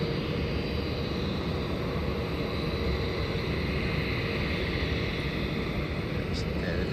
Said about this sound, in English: Airbus A350. That is 941 coming in from Shanghai.